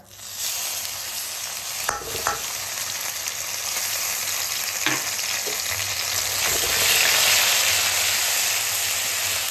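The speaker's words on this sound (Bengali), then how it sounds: "তেলের মধ্যে আমি দিয়ে দেব আদা আর রসুনটা থেতো করা" Crushed ginger and garlic frying in hot oil make a loud, steady hiss and sizzle that swells slightly toward the end, with a few light clinks of a utensil against the pan.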